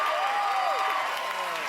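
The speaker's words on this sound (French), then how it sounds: "On applaudit." A television game show's studio audience applauds in a steady, dense wash of clapping, with a whistling tone sweeping through it.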